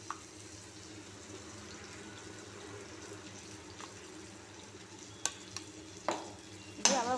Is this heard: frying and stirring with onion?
yes